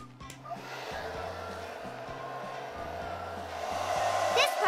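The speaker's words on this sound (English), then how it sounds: "Make sure your blow dryer is on high heat and it's on low." Blow dryer running on high heat to melt crayons, a steady continuous whoosh that stays loud throughout and swells slightly near the end, with faint musical tones underneath.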